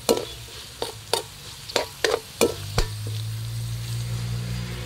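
Onion and garlic fry in a hot pan while cooking pinakbet, with sharp spattering pops and stirring scrapes in a broken rhythm, then a steady sizzle settles in near and fairly loud.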